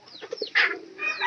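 Pigeons give a short burst of soft coos and throaty calls, close and fairly loud, lasting about a second with no talking.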